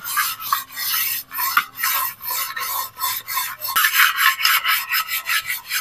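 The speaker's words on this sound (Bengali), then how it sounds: "দু থেকে 3 মিনিট খুব ভালো করে এইভাবে ঘষে নিতে।" Something is scrubbed hard by hand for two to three minutes, giving steady rhythmic rasping strokes that repeat close up, with no talking over them.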